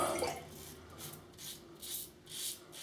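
A Merkur 34C safety razor rinsed under running water, a few rhythmic rushing swishes as it passes back and forth through the stream, close up with no talking.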